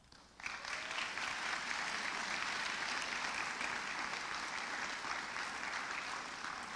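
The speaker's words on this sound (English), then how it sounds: "I thank you for giving her a round of applause" Sustained applause from an audience at a college student achievement awards ceremony, starting abruptly and holding steady as a broad, even clatter of many hands without voices.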